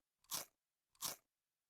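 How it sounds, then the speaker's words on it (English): A girl chews her food noisily: two loud, crisp crunching bites about half a second apart, close to the listener and with nothing else heard. "The girl is noisily chewing her food."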